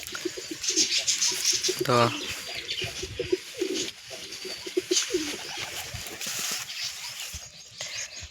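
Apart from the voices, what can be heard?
pigeons cooing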